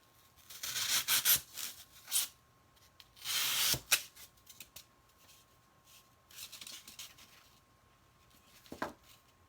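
A piece is cut to size for an upcycled lavender basket: a handful of short, close rustling and snipping bursts with quiet pauses between, fairly soft and with no talking.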